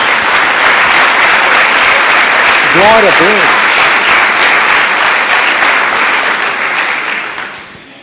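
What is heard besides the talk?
congregation applause in church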